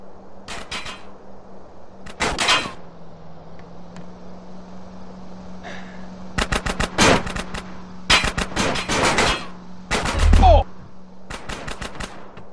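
Gunfire in the video game GTA San Andreas, several close bursts of rapid machine-gun shots separated by short pauses, over a low steady game hum.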